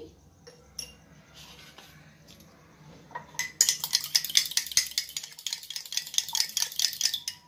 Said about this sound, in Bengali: ভালো করে ফেটিয়ে নিলাম